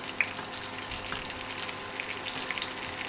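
Green chilies frying in a pan with onions for a red lentil dish, a steady soft sizzle with light stirring scrapes, close and continuous, no talking.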